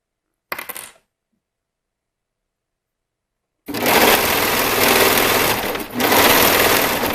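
A sewing machine stitches elastic onto the V neckline of a gown: a short burst of stitching, a pause of silence, then a loud, continuous close-up whir that dips briefly before running on.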